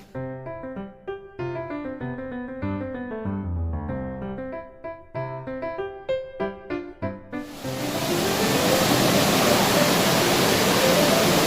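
Rising river water rushing in a broad, steady roar that swells in and stays loud and continuous after a stretch of music-like tonal sounds at the start.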